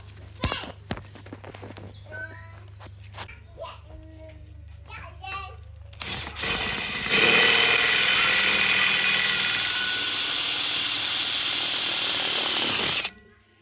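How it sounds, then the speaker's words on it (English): A few short spoken remarks, then a power drill whirs loudly and steadily for about six seconds before cutting off, while building an aquaponics pond. "so now I've got the drill"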